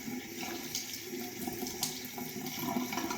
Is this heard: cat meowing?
no